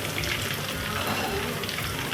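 Fresh curry leaves hit hot oil for an Avoli fish fry and erupt into a loud, dense, steady sizzle and crackle, close by and unbroken throughout.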